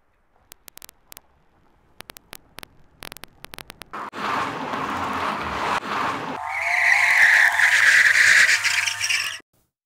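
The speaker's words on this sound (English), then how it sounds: "There we go, there's some tyre skids that we'll find good for our project." Tyre skid sound effects auditioned from a sound library: scattered short clicks, then a building screech of sliding rubber that swells into a loud, sustained high-pitched squeal before cutting off abruptly.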